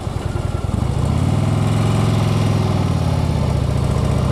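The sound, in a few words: motorcycle engine while riding twisty roads, downshifting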